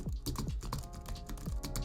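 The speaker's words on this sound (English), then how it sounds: "Or if you are on the keyboard, I mean, I have an Apple keyboard." Rapid, close-up keystrokes clatter on an Apple computer keyboard in an irregular typing rhythm.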